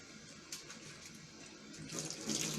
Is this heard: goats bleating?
no